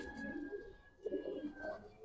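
A Giribaz pigeon coos softly in a loft, its low murmuring calls rising in short repeated phrases over a quiet background hum.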